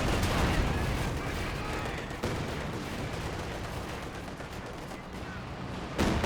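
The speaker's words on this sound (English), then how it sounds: "Katusha Barrage will roll some misses there" A Katyusha rocket barrage in Company of Heroes 2 rumbles as a dense, continuous wash of explosions and gunfire, loud and sustained throughout, with a brief dip and a fresh surge near the end.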